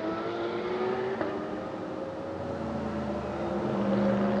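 A Ferrari and other race cars pass at Hockenheimring, engine tones droning and shifting pitch at a distance in a thin, steady whine.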